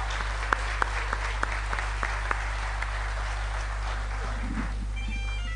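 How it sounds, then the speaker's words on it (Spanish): Applause from an audience for a performer at an Asturian song contest in the Narcea valley, a steady wash of clapping with sharp individual claps, fading near the end. "Lo recibimos con un cariñoso y fuerte aplauso."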